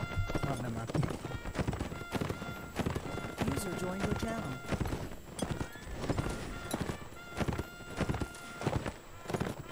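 Hooves clip-clop in a rapid, steady gallop from a horse in a multiplayer battle video game, under frequent overlapping voices of players talking.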